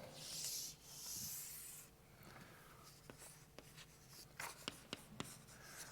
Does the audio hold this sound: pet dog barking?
no